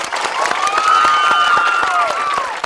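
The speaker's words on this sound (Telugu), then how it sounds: "చప్పట్లు ఇప్పుడు కొట్టాను." A crowd of students applauds and cheers at an intermediate and degree college event, a dense, loud wash of clapping with shouts mixed in, continuous for a few seconds.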